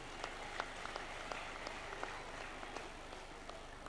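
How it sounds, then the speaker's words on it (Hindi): An audience applauding the Rajivika women at a village development meeting in Sikar, a faint, sustained patter of many clapping hands with a few sharper claps standing out, heard from a distance. "एक बार राजीविका की बहनों के लिए ताली बजाइए जोर से।"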